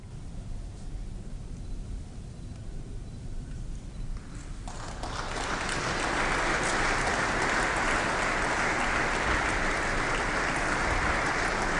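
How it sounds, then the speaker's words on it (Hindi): A large crowd applauds in Ashoka Hall at Rashtrapati Bhavan during a Padma Shri award ceremony. The room starts fairly quiet, then the clapping swells midway into a dense, sustained roar. "हॉल तालियों की गड़गड़ाहट से गूंज उठा"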